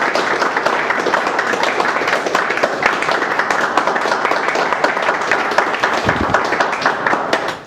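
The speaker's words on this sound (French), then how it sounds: "On peut l'applaudir." An audience applauds a party figure being introduced at a political party meeting, a dense, steady wash of clapping that holds at an even level throughout, with no talk.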